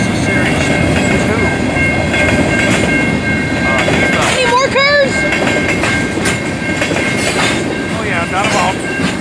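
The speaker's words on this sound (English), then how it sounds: "he wasn't a very long train, was he?" A train rumbles past at close range with a steady clatter and a brief high squeal partway through, with voices talking over the noise.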